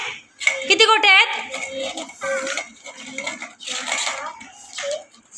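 Marbles clink against a plate in quick, bright taps while a child and an adult talk and count aloud in between.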